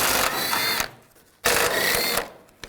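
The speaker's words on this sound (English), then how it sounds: "Take these nuts off, use a 14mm socket." A ratchet fitted with a 14mm socket works loose the strut nuts on a 2004–08 Nissan Maxima, giving two loud bursts of rapid clicking close up, each about a second long, with short quiet gaps between them.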